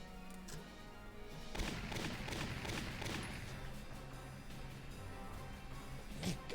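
Faint, distant gunfire aimed at a sniper in the Valkyria Chronicles video game, a low rumbling fusillade with scattered impacts that swell and fade over several seconds.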